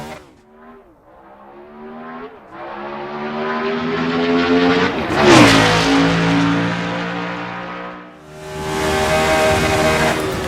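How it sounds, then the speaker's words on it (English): A Formula One M23 race car fitted with a NASCAR engine, driven in the Assetto Corsa game, accelerating hard on a straight, its engine note climbing through the gears with shifts and a brief lift before revving high again. "So we'll gas it up one more time on the straightaway."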